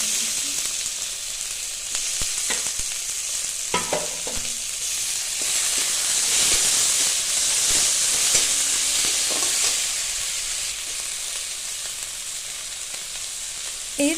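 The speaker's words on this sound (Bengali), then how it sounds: "পেঁয়াজ কুচি, আদা রসুন বাটা, টমেটো কুচি দিয়ে একটু নাড়াচাড়া করে নিতে হবে।" Chopped onion, ginger-garlic paste and chopped tomato sizzle and fry in a pan for a potol kofta curry, with a steady close hiss broken by scraping stirs of a spatula.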